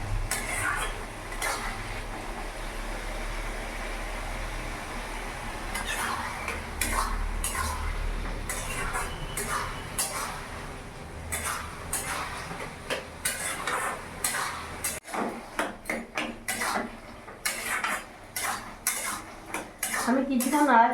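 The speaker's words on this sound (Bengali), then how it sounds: "আমি কিছুক্ষণ নাড়াচাড়া করে এইভাবে নেড়ে নিয়েছি।" Bottle gourd curry (lau ghonto), vegetarian and cooked only in the gourd's own released water, being stirred in a pan: utensil scrapes and clinks of cookware repeating irregularly, with a low steady background hum, louder and choppier toward the end.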